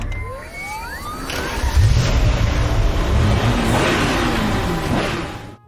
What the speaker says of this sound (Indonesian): tiba-tiba saja terdengar suara bergetar dan erangan mobil Ferrari pun terdengar